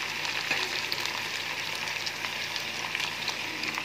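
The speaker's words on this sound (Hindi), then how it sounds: "अच्छी तरह आप इन्हें फ्राई करें" Garlic ginger paste, green chillies and tomatoes frying in a pan for degi pulao, a steady, fairly loud broadband sizzle that continues evenly throughout with no talking.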